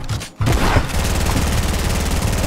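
Gunfire in the mobile game Fortnite rattles as a dense, continuous volley after a brief dip at the start, loud and steady with no talk over it.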